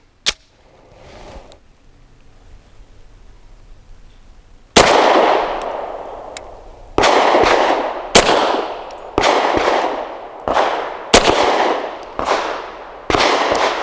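An American Precision Firearms Arsenal Strike One pistol fires Federal Syntech 150 grain action pistol gamer rounds, with about nine loud, sharp shots ringing out in an uneven string, each followed by a brief metallic ring, after a few seconds of quiet.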